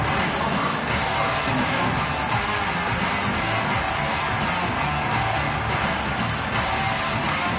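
A stadium crowd roaring in a college football video game as Arizona State returns a punt, a dense, sustained wall of cheering that stays loud and unbroken throughout.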